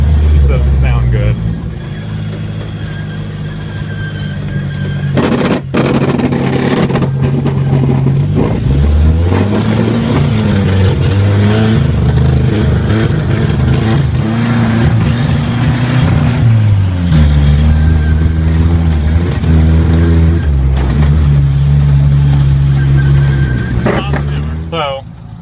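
A 1980 Chevy Luv engine revs loud and close for about 25 seconds, its pitch rising and falling through several throttle blips over a steady rough idle, with a voice faintly present underneath.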